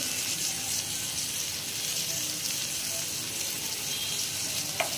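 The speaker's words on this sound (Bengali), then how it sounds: "এবার ভালো করে মশলাটা কষাবো।" Spices for Bengali-style ghugni sizzle in a pan with tomato, turmeric and chili powder: a dense, continuous frying hiss holds steady and close, with no talking over it.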